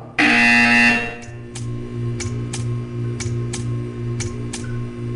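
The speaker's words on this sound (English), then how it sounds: "When you hear the buzzer, stare at the art." A buzzer sounds in the Portal video game, one loud harsh electronic blast followed by a low droning hum with a string of sharp ticks at irregular intervals.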